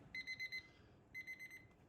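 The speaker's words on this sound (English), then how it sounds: "we're getting down to the end of the timer here" A darkroom exposure timer beeps during platinum/palladium printing: two quick bursts of four high electronic pulses separated by a short pause, faint and steady over a low background hum.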